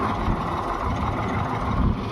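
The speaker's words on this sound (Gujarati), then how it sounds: "હા દિલીપભાઈ ટ્રેક્ટર લઈ આલે" A tractor engine on a farm where peanuts are being harvested runs at a steady, low, rumbling drone, close and continuous throughout with no voices over it.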